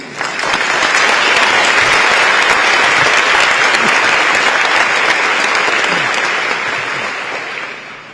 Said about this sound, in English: please join me in applause for Vice President-elect Li Kin-xiao,